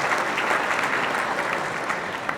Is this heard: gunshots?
no